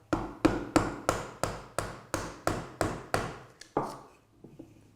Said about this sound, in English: just hammer it down and it'll split along the grain.